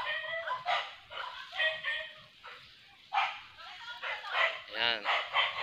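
A dog gives a run of yips and barks, some spaced and some clustered, at moderate loudness, with voices nearby.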